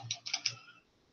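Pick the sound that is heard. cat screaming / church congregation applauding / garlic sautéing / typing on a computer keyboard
typing on a computer keyboard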